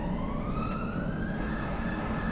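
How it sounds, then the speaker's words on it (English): A loud emergency siren wails steadily with a slowly rising tone over heavy low rumble, close and continuous with no voices. "The sound of the siren,"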